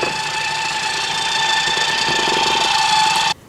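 An electric mixer runs on low speed through cookie batter with salt and vanilla extract, a loud, steady motor whir close by that cuts off abruptly near the end, with no talk.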